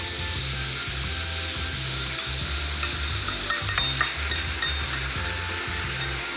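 Kurobuta black pork stir-frying in a pan with seasonings, a steady close sizzle with rhythmic scraping and clacking of a utensil against the pan.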